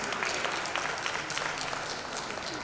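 Conference audience at a social innovators awards event applauding a programme director's welcome, steady dense clapping filling the hall throughout, loud and continuous with no break.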